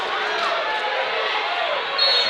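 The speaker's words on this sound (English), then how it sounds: "And the crowd is yelling for her to shoot the ball." A crowd at a girls' high school basketball game yells and cheers for a player to shoot, a continuous loud roar of voices that swells slightly near the end.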